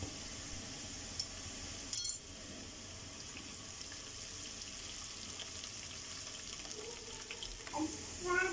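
Onion, cumin and ginger garlic paste fry in oil for an aloo anday salan, giving a steady, soft, close sizzle with a few faint clinks from a utensil.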